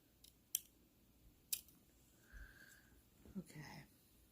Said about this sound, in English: I'm just gonna go right in and snip that right out of there.